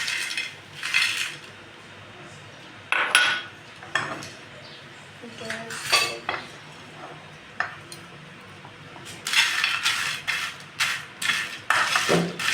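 Dry spices such as red chili, cloves, fennel, black pepper and bay leaves being stirred in a pan, with scattered metallic clinks and scrapes from a spoon against the pan, some in quick clusters and others single, between quiet pauses.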